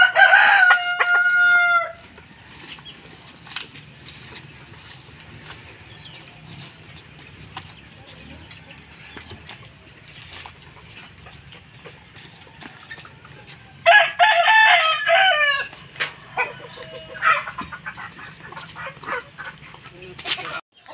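Aseel roosters crow loudly at the start and again near the end, with bursts of clucking from the flock in between and a quiet farmyard background.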